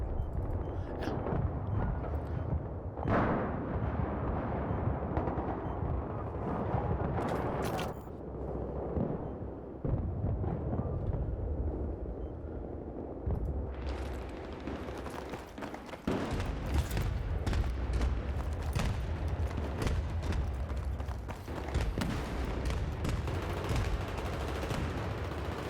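Battlefield 3 video game combat roars with dense, continuous gunfire and repeated heavy explosion booms, loud and layered with rattling automatic bursts, one brief lull midway before the chaos surges back.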